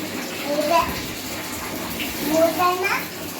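Tap water runs into a bath, a steady splashing rush heard close while a child and an adult talk over it.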